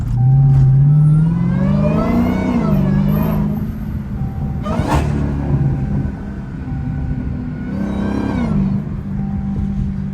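A supercharged Dodge Hellcat engine heard from inside the car, revving hard in loud repeated rising sweeps with a steady low rumble between the pulls.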